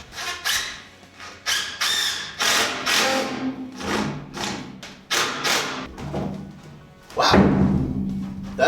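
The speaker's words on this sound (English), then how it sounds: "I'm gonna attempt to splice these two 2x4s together by pocket screwing them together end to end into the end grain of the wood." Two 2x4s are pocket-screwed end to end into the end grain while framing a shipping container tiny home, heard as a series of close, loud thumps and bursts of driver and screw noise with uneven pauses between them.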